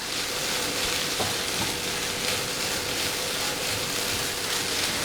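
Egg and crumbled leftover puttu stirred together in a hot frying pan, giving a continuous close sizzle with light scraping from the stirring and a few faint clicks, without any talking.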